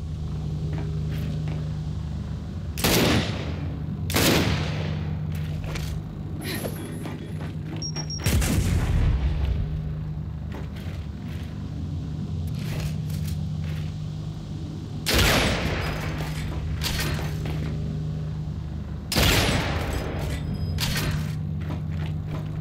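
Turret gunfire in Gears of War 5, heavy booming blasts arriving in separated groups over a low steady rumble, loud and close, with no talk.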